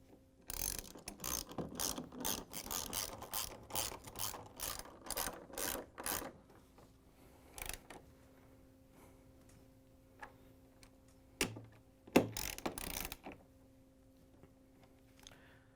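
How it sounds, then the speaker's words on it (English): A ratchet with an extension and 10mm socket tightens a bolt on a Samsung door hinge, giving a fast run of close, crisp clicking for about six seconds, then a few isolated clicks and clunks in a quiet room. "we're going to grab the 10mm socket with the ratchet and the extension again and tighten it down"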